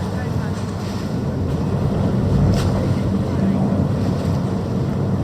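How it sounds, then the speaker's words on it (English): Aboard a ferry heading into town, a loud, constant rumble of the vessel's engine mixes with buffeting wind noise and rushing water, steady throughout with no talking. "I'm on the ferry going into town"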